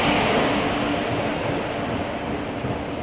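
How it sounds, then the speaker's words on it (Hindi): Howrah Mumbai Weekly Express 12870 pulling into a station, a loud, steady broadband rumble of rolling wheels and carriages that fills the whole three seconds. "यहाँ पे 1:13 पर हमारी हावड़ा मुंबई वीकली एक्सप्रेस 12870 आ चुकी है"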